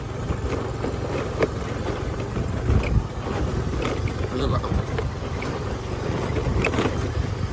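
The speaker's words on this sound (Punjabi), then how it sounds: "ਇੱਕ ਹੱਥ ਨਾਲ ਸਕੂਟਰੀ ਚੱਲ ਰਹੀ ਆ" A small motor scooter hums steadily with wind buffeting the microphone, the engine drone continuous and close throughout.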